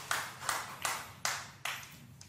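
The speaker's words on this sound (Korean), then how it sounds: "하나님께 박수로 영광 돌리시겠습니다." Five or six slow, evenly spaced claps from a congregation at a Sunday church service, each a soft burst fading quickly, with a faint hum underneath.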